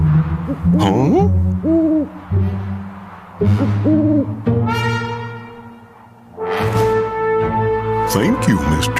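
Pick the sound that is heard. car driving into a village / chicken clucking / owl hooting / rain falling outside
owl hooting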